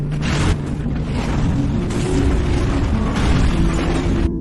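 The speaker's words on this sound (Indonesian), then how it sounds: "memicu ledakan hebat yang menghancurkan trailer dan" An explosion destroys a trailer in a dense, roaring blast of noise that rumbles on continuously, loud and full, with debris and fire.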